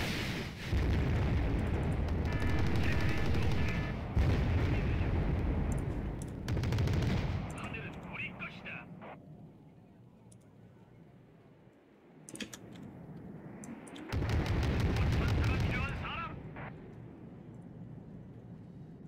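An aircraft strafing run in the video game Wargame: Red Dragon unleashes loud bursts of rapid gunfire and explosions, with long sustained volleys broken by quieter gaps and a few sharp isolated shots.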